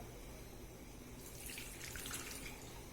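Water poured into a yeast and sugar mixture for pizza dough, a steady splashing pour that brightens and intensifies midway, close and alone with no talk.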